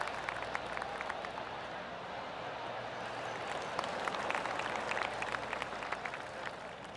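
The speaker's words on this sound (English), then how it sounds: "I can hear the golf claps around the course" Faint, polite golf claps from a spectator crowd spread around a video game golf course, a soft continuous patter with scattered sharper claps under distant ambience.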